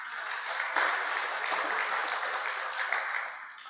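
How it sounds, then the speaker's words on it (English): A crowd at a no-till farming club conference gives a steady round of applause for the competition participants, full and even for the whole stretch without a break. "give everybody that took part in this competition a nice round of applause"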